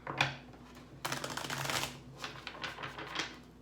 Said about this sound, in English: we'll get started after a few shuffles